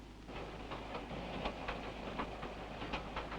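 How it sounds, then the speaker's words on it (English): A royal train rolls through the sheep-raising country of Hawke's Bay, New Zealand, in the 1950s, a steady low rumble with rhythmic wheel clicks on the rails, continuous and moderately close. "the train moves through the rich sheep-raising area of Hawke's Bay"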